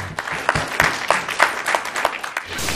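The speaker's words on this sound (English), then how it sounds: "at that point, the chamber, erupted in applause" A room full of people claps steadily, a dense ripple of applause that holds at a lively, fairly loud level throughout.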